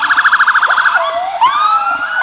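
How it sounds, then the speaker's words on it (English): Emergency sirens from rescue squad, fire company and EMS vehicles in a Hanover County holiday parade in Ashland, a loud close yelp with rapid wavering cycles that slides into a long rising-and-falling wail, with no talk. "every EMS unit in Hanover County That's right. blowing their sirens at the moment"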